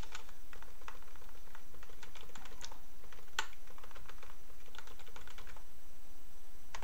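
A password is typed on a computer keyboard while setting up Manjaro Linux: quick bursts of close, crisp key clicks in irregular runs with brief pauses, no talking.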